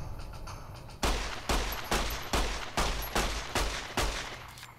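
Rapid volley of gunshots in the video game Fallout New Vegas, about seven sharp loud blasts spaced roughly half a second apart, each with a short decaying tail, no voices.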